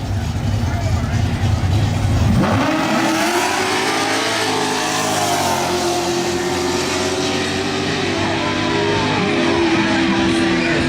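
A Ford Mustang and a Chevrolet Camaro launch in a drag race, a loud low roar of engines that shifts into rising, sweeping revs as the cars pull away, with someone talking over it throughout.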